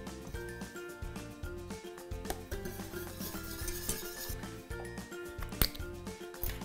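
A spoon stirs and clinks against a pot holding a matcha torte mixture with agar-agar and vanilla, producing steady rhythmic scraping and metallic taps alone, with brief louder knocks.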